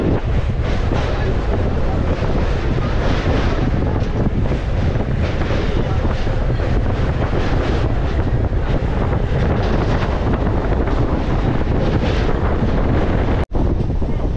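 Strong wind buffets the microphone aboard a local train crossing a river on a cold, sunny morning, a loud continuous roar and rumble with no break until a brief dropout near the end.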